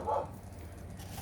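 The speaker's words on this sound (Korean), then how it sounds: "저희 그 진돗개 한 마리 제가 키우고 있는데, 예, 짖네요." A single Jindo dog gives a short bark close by at the start, heard in a quiet room at night, and then a low steady background hum carries on.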